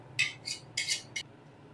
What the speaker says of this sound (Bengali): এবার জলের সাথে ভালো করে মিশিয়ে দেব